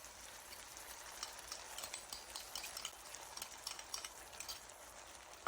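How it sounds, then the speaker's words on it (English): A soft, steady sizzle of Kung Pao chicken and sauce stir-frying in a pan, with faint stirring scrapes and a utensil clink at the end. "we're just going to stir fry that until the sauce really starts to thicken and stick to the chicken"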